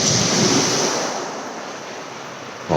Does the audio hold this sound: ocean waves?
yes